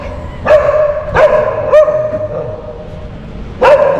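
Angry dogs barking outdoors in Thailand near a ferry and train station, four loud sharp barks in an uneven rhythm with short gaps between them, heard alone and close by.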